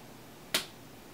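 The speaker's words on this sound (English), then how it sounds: "I'll clap my hands" One sharp hand clap rings out clearly against quiet background, crisp and brief with a short fading tail.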